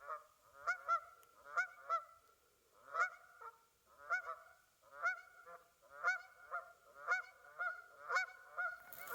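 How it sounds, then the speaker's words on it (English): Canada geese honking on a pond, a steady run of loud, nasal calls repeating roughly twice a second, close by and overlapping as several birds call together, with no other sound beneath them. "That's a Canada goose saying, "Lordy, lordy, there's a bloke over there.""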